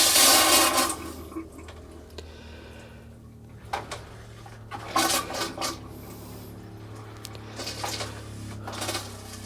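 An RV toilet flushes while the water line is being winterized, giving bursts of rushing water separated by quieter gaps, with clanks and gurgles close by.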